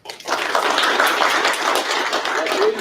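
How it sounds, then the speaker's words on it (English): Applause from the audience at a military graduation ceremony, a steady wash of many hands clapping that continues evenly for about three seconds at a fairly loud, close level. "can applaud for yourself"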